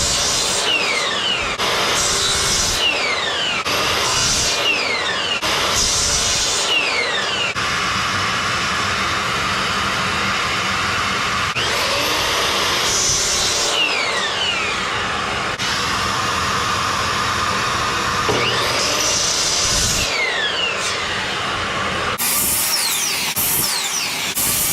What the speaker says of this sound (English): So I have to cut off both ends and then straight down the middle again.